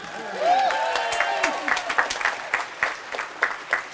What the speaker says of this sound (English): So again, clap it up for Jay Sean.